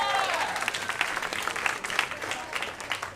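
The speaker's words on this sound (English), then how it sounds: "give yourselves a round of applause" A drag comedy show crowd applauds with dense, continuous clapping that fades slightly toward the end, with no voices over it.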